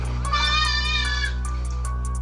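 A goat bleats in a long wavering cry, loud and close, then a shorter call follows near the end over steady low background hum.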